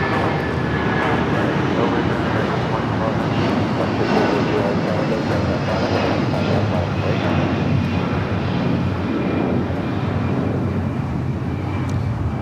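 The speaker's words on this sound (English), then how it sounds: "United 757 at 200, that flight heading to Newark. Taking off here on the south side." A United Boeing 757 bound for Newark takes off from the south side of LAX, its engines making a steady, loud, broad roar throughout.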